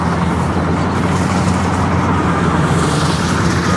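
Rice harvester machine running in a muddy village field: a loud, steady engine drone with constant low rumble and no breaks.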